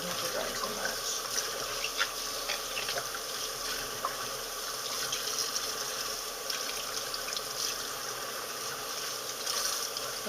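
Joi choi leaves rinsed under a running tap, a continuous close water hiss with light splashing and patter as the leaves are handled.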